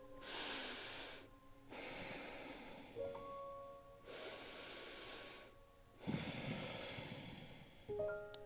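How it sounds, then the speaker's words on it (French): Slow Ujjayi yoga breathing in the downward dog pose, several long, audible breaths with a soft throaty rasp, quiet and close, alternating inhale and exhale with short pauses between. "Et là, je respire en Ujjayi."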